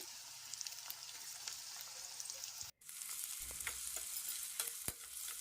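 Softened onion fries in a pan with a quiet, steady sizzle and scraping stirs, then a brief gap before tomato goes in, followed by renewed sizzling, a low thump and sharp spoon knocks; no speech.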